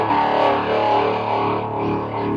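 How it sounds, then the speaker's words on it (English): Electric guitar on the bridge pickup driven through a fuzz distortion pedal, a thick, saturated, buzzing tone sustained steadily and loudly for the whole stretch with no talking. "And of course there's more distortion on tap."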